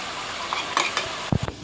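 Ginger garlic chili paste hits hot oil in a pan with a sharp sizzle, followed by a few soft stirring scrapes and clinks, close and brief, with no voices.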